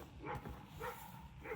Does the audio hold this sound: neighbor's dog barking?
yes